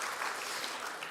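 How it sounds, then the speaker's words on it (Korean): Church congregation clapping during a Sunday service, a short, dense burst of many hands applauding together, fairly faint and distant, with no voices over it. "우리 모든 축복의 행복한 가정들 축복 박수 한번 드립시다."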